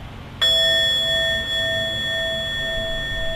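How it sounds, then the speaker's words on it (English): A meditation bell is struck once to close a mindfulness practice, giving a clear, bright ring that sustains and slowly fades over several seconds in a quiet room. "So I'll ring the bell just to"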